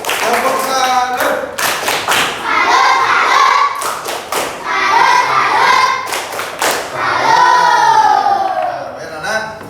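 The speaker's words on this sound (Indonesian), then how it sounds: "Ya, tepuk tangan buat semuanya." A classroom group claps in unison with rhythmic bursts of hand claps and thumps, and children's voices chant and talk between the rounds.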